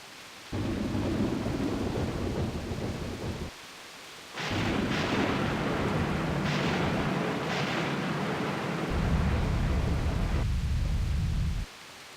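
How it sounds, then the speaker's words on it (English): Thunder and storm rumbling from the game Grandia II roll in heavy, loud waves, with long deep rumbles separated by brief lulls and sharper cracks in the middle of the storm. "Yet the storm and rumblings only grew worse."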